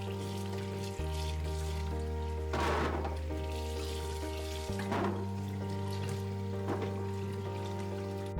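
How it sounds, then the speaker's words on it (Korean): Ginger being rinsed and rubbed under running water in a sink, a steady close faucet stream with brief louder splashing bursts as the root is scrubbed. "다시 물에서 문질러가며 씻어 헹궈주세요"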